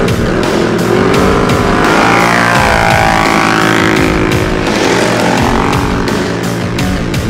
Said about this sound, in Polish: To jest Can-Am Renegade